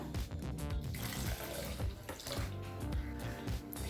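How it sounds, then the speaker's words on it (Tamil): Water splashes and gurgles steadily into a cooking pot of sago for payasam for a few seconds, close and continuous with bubbling, sloshing tones. "இப்போ ஜவ்வரிசி வேகிறதுக்கு தேவையான அளவு தண்ணி சேர்த்துக்கலாம்."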